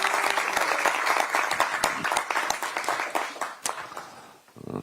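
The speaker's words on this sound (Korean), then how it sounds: "이보나님께 큰 박수를 부탁드리겠습니다." A crowd at a political party rally claps, the applause full at first with a few sharp individual claps standing out, then thinning and fading toward the end.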